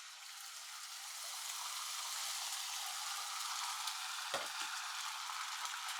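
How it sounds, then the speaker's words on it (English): An egg mixture for a veggie omelette fries in a pan with a steady, bright sizzle that swells slightly and holds, broken once by a soft dull bump from a utensil. "keep moving the egg mixture around"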